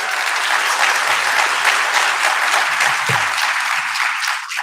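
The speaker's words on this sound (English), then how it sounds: "Let's give that a round of applause." A large crowd at a breakfast event applauds loudly and steadily, a dense, even wash of clapping that holds for several seconds before beginning to fade.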